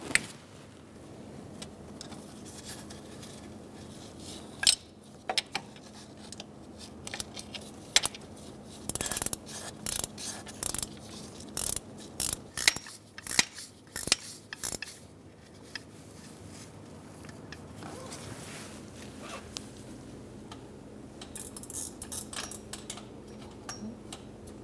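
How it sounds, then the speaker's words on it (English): A ratchet wrench loosening an idler pulley bolt on a 2012-2017 Hyundai Accent 1.6L L4: bursts of sharp, close metallic ticking clicks in quick rhythmic runs, with quieter handling noise between them. "I'm going to get my ratchet wrench in there"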